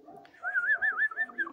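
Domestic pigeons moulting in a loft coo in a warbling, wavering call, several rolling pulses repeated close by, with soft rustling and faint background noise.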